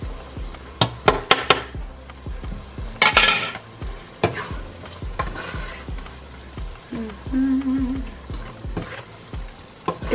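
Ground beef fries in a pan with chopped onion and garlic, a steady close sizzle broken by repeated scraping and stirring clatters, with a brief metallic squeal partway through.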